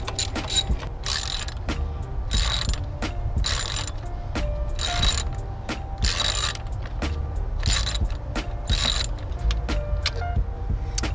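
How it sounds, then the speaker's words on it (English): A hand ratchet backs out intake bolts on a Toyota 4Runner engine, loud and close: repeated bursts of rapid clicking strokes separated by short pauses, without talking. "I'm gonna start unscrewing the bolts off of the rest of the intake"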